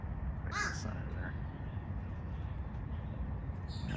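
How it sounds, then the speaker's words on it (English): Crows caw outdoors, a pair of harsh calls near the start and another toward the end, sounding over a constant low rumble of wind or traffic. "love crows and ravens"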